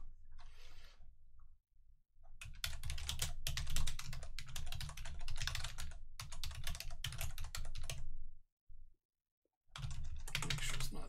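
Rapid, steady typing on a computer keyboard comes in dense bursts of clicking keys, broken by brief pauses, close and fairly quiet with no talking.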